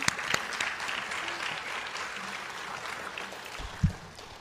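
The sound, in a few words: audience applause for Rithika's dance performance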